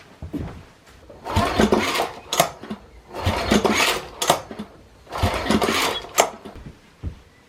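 Troy-Bilt mower engine with its carburetor fully open, cranked in three loud, close bursts of rapid mechanical churning separated by short pauses, with no engine catch and no talk.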